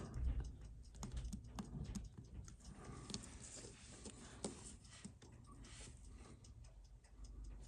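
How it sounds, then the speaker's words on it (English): Relay clickers on a suspected bad circuit with four coils tick in a fast, irregular run of sharp little clicks, close and fairly quiet, over a low background hum. "Make sure this clicker is clicking."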